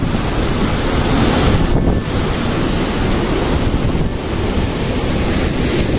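Water rushes down with force somewhere along a route between Chinchiná and Palestina in Caldas, Colombia, a loud continuous close roar with gusts of wind buffeting the microphone.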